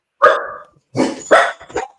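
A dog barks sharply and close indoors, one bark followed after a pause by three quick barks in a row, loud against an otherwise silent room.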